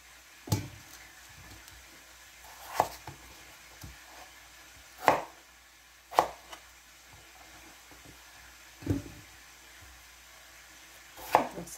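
A knife chops potatoes on a board in a home kitchen, with about seven sharp, separate thuds spaced a second or two apart against a quiet background.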